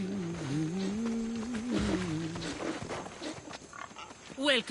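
Pigs grunt and snort in Assassin's Creed Odyssey, with a few low, drawn-out grunts early and a short squeal near the end, over faint game ambience.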